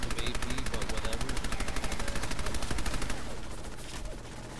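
Rapid automatic gunfire in Fallout 4, a dense, steady stream of close, loud shots that thins and fades toward the end, with possible talk faintly underneath.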